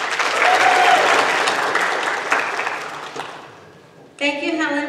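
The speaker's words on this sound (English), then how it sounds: "Please join me with a round of applause for Helen Caleb." A crowd at a college pre-commencement ceremony on the Bakersfield College Delano campus applauds for an honoree in a loud, dense wash of clapping that fades over a few seconds, then a voice begins speaking.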